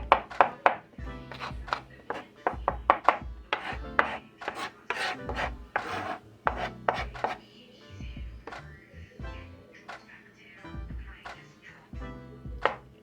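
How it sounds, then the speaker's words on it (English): Knife chopping hard-boiled eggs on a board for cookout potato salad: a steady run of sharp, close taps in quick bursts, with brief pauses and softer rubbing scrapes between. "Just chop them up as best you can."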